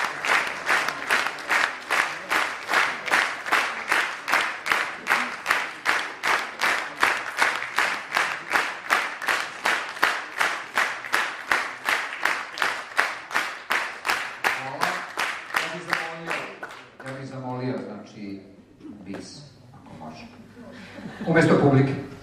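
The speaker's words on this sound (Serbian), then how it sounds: "Umjesto publike, oni su izrazili želju aplauzom." A live crowd at a folk concert of traditional songs in Deska, Hungary, claps in steady unison for about seventeen seconds, a loud, even rhythmic beat, before the clapping stops and scattered voices and talk take over.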